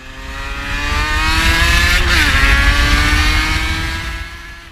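A Yamaha RD350 two-stroke motorcycle accelerates up close and loud, its ringing exhaust pitch climbing. It crests near the middle and then eases off as the engine note falls away.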